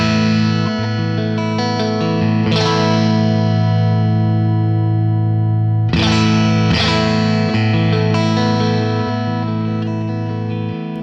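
Electric guitar played through a Smooth Impact pedal in natural mode, sustained ringing chords with a few sharp strummed attacks that decay slowly, clear and up close with no talk.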